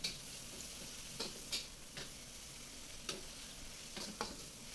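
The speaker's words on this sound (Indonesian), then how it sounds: "Ini kita akan gongso atau goreng sampai terinya itu mateng" Anchovies (teri) fry in a pan with a quiet, steady sizzle, punctuated by several light clicks and scrapes of stirring, with no voices.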